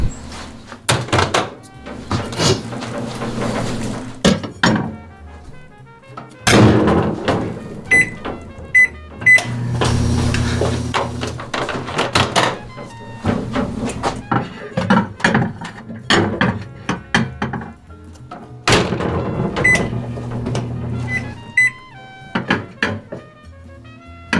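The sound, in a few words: microwave oven running with minced onions inside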